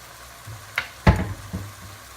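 Garlic cloves drop into a hot pan with some jalapeno and fry, giving a few short sizzling bursts. One hit stands out, then the sizzle settles into a quieter crackle.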